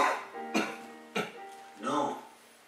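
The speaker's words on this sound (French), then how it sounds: "Tu veux pas tousser au bon moment, là?" A person gives a few sharp, harsh coughs, three bursts spaced about half a second apart, close to the microphone, mixed with some voiced, throaty sounds.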